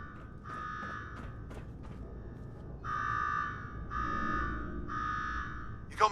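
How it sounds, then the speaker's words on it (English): A repeating electronic alarm tone in Fallout 4 sounds in three steady bursts of about a second each, loud over a low rumbling background, with a few fainter beeps just before. "Now go shut off that damn alarm"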